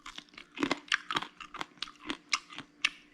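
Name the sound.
crunching on crispy lechon kawali pork belly skin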